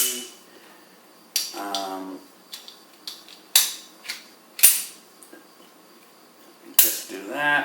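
The slide of a .32 ACP Tanfoglio pistol is racked back, giving a handful of sharp metallic clicks and clacks spaced irregularly over quiet handling noise.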